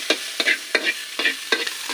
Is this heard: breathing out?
no